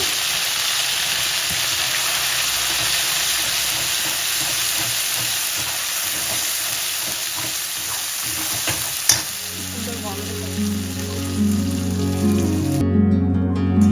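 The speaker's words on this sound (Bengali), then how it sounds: "তারপর এটাতে আদা বাটা একসঙ্গেই দিয়ে দিয়েছি জানো, আদা তেলে দিয়ে দিলাম।" Ginger paste fries in hot oil with nigella and cumin seeds for a green pea kachori filling, giving a loud continuous sizzle with spatula scraping. Lower tonal sounds come in over the last few seconds.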